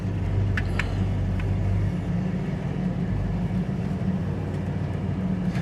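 A 1971 Oldsmobile Cutlass convertible's engine idles steadily with a low, even rumble, close by and unbroken, with a couple of faint clicks early on.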